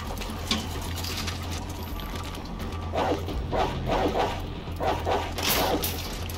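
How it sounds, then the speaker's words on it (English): Dogs bark in a repeated series of sharp, mid-distance woofs over a steady background hum, with a few yips and no talking. "Here go the doggies."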